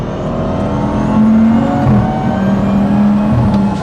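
A BMW 435i fitted with sticky tyres accelerates hard, its engine revving up in a loud, steady climbing drone heard close from inside the car, with no talk over it.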